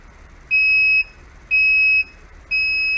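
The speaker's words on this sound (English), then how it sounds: "And once it stops spinning, it'll beep." Three evenly spaced electronic beeps, each about half a second long, clear and steady over quiet background.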